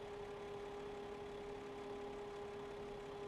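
Steady engine drone of a tractor in a farming video game, an 806 model, idling evenly and fairly faint with a constant low hum throughout, no talk.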